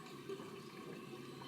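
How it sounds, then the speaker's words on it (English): A Water Ridge toilet runs a half flush, a quiet, steady rush of water draining from the tank with an even hiss throughout. "I'm doing a half flush."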